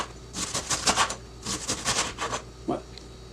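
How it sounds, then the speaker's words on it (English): A knife slices cabbage very thin on a cutting board, fast rhythmic chopping taps in two quick runs of strokes, close and crisp, with one final louder tap. "then you're going to want to cut it very thin."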